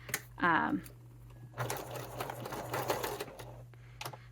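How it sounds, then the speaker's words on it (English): A sewing machine stitches a fabric stocking, running forward and back stitches in short close-up bursts of rapid whirring and clatter separated by brief pauses, with a voice speaking between them. "And I'm going to sew to that point. One thing I like to do is forward stitch and back stitch"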